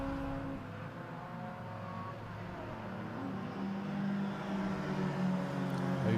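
Race cars, among them a Ford Fiesta, lapping Oulton Park circuit, a steady engine drone that swells toward the end as the cars draw nearer, with no voices over it.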